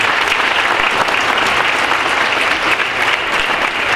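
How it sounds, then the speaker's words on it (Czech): Closing applause at a conference award ceremony, a loud, sustained wash of many hands clapping evenly throughout with no break. "A my vám přibrejme ještě závěrečný aplaus."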